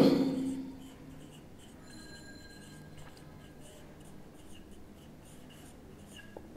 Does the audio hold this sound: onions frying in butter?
no